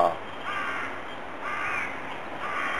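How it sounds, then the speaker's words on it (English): Crows caw repeatedly in a few rough bursts at moderate distance, set against steady outdoor background noise, with no one speaking during the calls. "There's crows down here."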